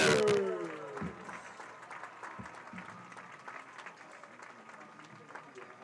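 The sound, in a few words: crowd applause at a football field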